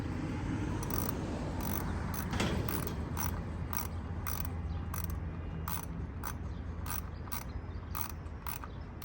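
A ratchet socket wrench working on a spark plug of a Dodge Charger 3.6 V6, with rapid rhythmic clicking in short bursts, close and fairly quiet over a low background hum.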